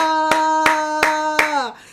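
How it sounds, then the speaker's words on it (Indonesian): Four evenly spaced hand claps from a prayer concert audience ring out over a sustained musical tone that bends and fades at the end. "yang percaya kasih tepuk tangan"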